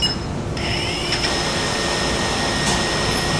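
Blade 350 QX quadcopter motors spinning up toward lift-off in AP mode, a loud steady high whine that rises in pitch as throttle increases, close by and alone.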